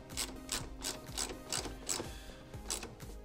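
Body bolt ratcheted tight in the bottom corner of a driver's side kick panel mounting plate, a quick series of small clicking ratchet strokes in an even rhythm, close and fairly quiet.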